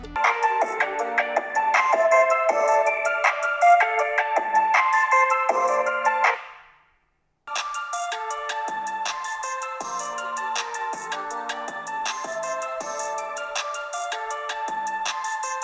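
Melodic phone ringtones play first through one smartphone speaker and then through a Samsung Galaxy Note 21 Ultra. There are two bright, chiming runs separated by a brief silence, and no talking.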